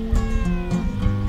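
A cat meowing close by, a short, bright, harmonic call lasting about a second over a little background noise.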